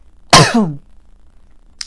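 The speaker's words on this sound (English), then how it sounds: "Sneezing again, guys." A single sharp sneeze bursts out close to the microphone, then quiet follows, with a faint click at the very end.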